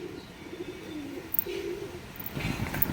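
A male and female Madras pigeon pair coo softly and nearby in low drawn-out murmurs, followed by a short rustle or flutter at the end.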